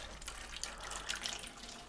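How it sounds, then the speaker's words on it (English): Hands are rinsed under a running kitchen tap, a soft, fairly quiet rush of water with light splashing that stays steady and uneven, with no speech. "I'll just give my hands a rinse."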